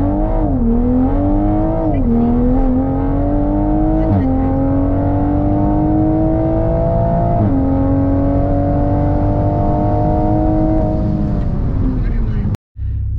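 A Toyota Supra accelerates hard from a standstill in a 0-100 and 1/8 mile drag run, its loud engine climbing in pitch through several gear changes with brief dips between them, ending abruptly.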